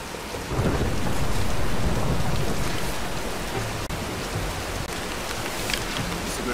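A thunderstorm in the 2018 Tomb Raider video game brings steady heavy rain and a deep rolling thunder rumble, loud and continuous with no voices.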